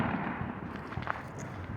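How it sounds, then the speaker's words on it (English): Fourth of July fireworks and firecrackers crackle and pop continuously from somewhere nearby in a backyard setting, with a few sharper bursts standing out over a dense rumbling background. "I don't know if is there any more like fireworks going on back there?"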